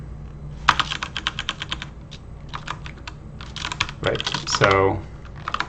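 Rapid clattering keystrokes on a computer keyboard, bursts of close, crisp clicks separated by short pauses, with someone speaking briefly partway through.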